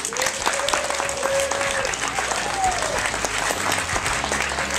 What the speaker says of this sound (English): give all of our participants a round of applause